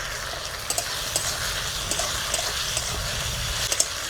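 Spices, chopped onion, ginger-garlic paste and diced tomato fry in hot oil for a fish-bone chorchori, a steady close sizzle with occasional light stirring clicks.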